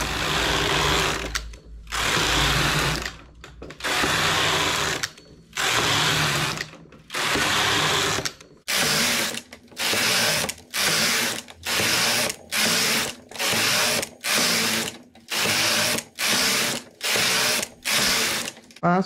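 A knitting machine runs row after row, its carriage whirring and clattering in loud bursts about a second long, separated by brief pauses. The rhythm quickens in the second half. No one speaks.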